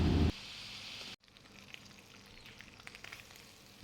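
Chicken pieces fry in hot oil: a loud opening burst gives way to a quieter, steady sizzle dotted with small pops and crackles.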